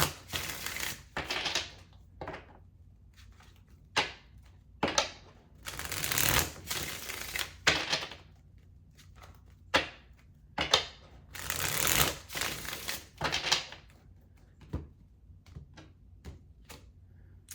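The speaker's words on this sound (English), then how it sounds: "We'll get two more cards out here to close out the reading." Tarot cards are shuffled and drawn in bursts of crisp riffling and flapping, broken by single taps and snaps as cards are set down, all close and alone with quiet pauses between.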